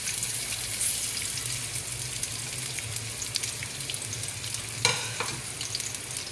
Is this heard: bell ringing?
no